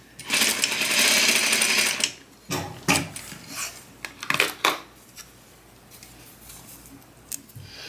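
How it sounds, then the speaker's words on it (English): Sewing machine stitching the ends of a pant waistband with right sides together, a steady loud two-second run followed by short handling knocks and rustles, no voices. "You're going to sew a half of an inch"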